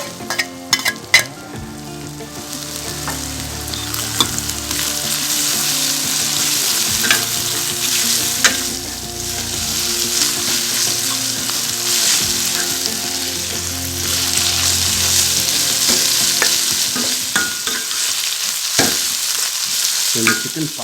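Shredded chicken sizzles and fries loudly in a pan, with continuous crackling oil, repeated stirring scrapes and occasional clinks of a utensil against the metal throughout.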